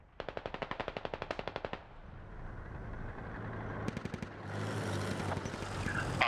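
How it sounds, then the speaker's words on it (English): Suppressing machine-gun fire in a squad-based military video game: a rapid burst of about a dozen close shots, a pause with a low engine rumble, then a short second burst followed by hissing, noisy combat ambience. "My guys are currently holding this hill, and we're just doing suppressing fire to the east."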